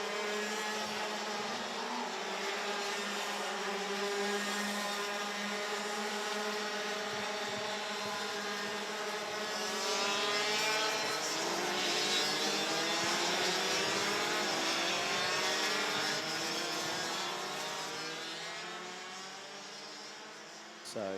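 DD2 race karts in the final at Kerpen, their high-pitched two-stroke engines whining together and rising and falling as they pass, with a commentator talking over the track noise.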